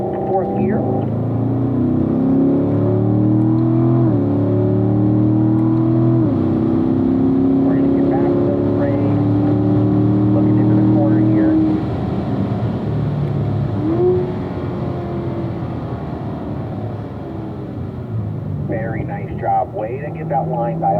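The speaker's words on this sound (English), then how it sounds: "Let's go ahead and get that car up to 4th gear." A Corvette on a race track climbs through the gears to fourth, its engine note rising in pitch at each gear before dropping at the shift, with a broad roar and muffled instructor talk over it.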